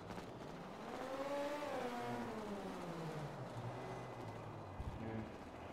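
An engine rises and falls in pitch as a car drives during a game test drive, with a steady drone and gear-like sweeps, mixed with faint voices talking in the background.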